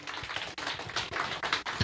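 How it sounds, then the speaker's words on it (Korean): A congregation claps together during a live Sunday church service, a brisk run of hand claps with a rhythmic, pulsing feel, moderately loud and continuous. "박수로 하나 영광 돌리겠습니다"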